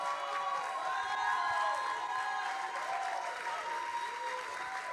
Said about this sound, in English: Please give a huge round of applause to Orano to close off this year's Hello Tomorrow Global Summit.